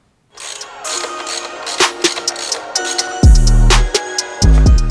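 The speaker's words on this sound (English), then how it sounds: "We're just gonna run some temporary bolts in there for now." Hand ratchet tightening temporary bolts on a KTM 150sx dirt bike, a series of loud, close, rapid clicking bursts with short pauses between strokes and no talk.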